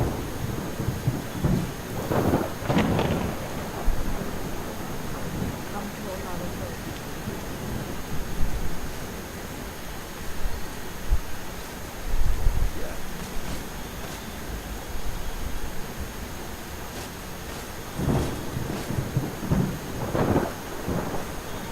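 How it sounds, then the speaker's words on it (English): Steady rain falls throughout a Skyrim thunderstorm, with several loud thunder cracks and rolling rumbles, some near and some far. "And this rain, incredible."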